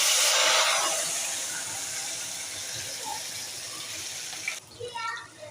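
Okra frying in hot oil in a pan gives off a loud, steady, close sizzle that eases slightly over time, with a few small clinks near the end.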